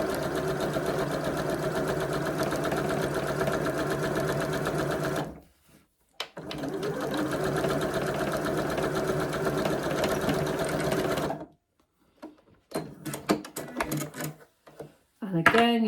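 A sewing machine stitches fabric in long, loud, steady runs of rapid mechanical chatter up close, breaking off twice, then a stretch of scattered clicks and handling noises follows.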